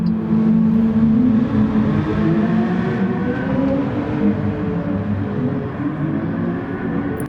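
LaFerrari and Honda NSX supercars rolling into the pits, a steady, loud engine drone with a low rumble that holds throughout and eases slightly toward the end.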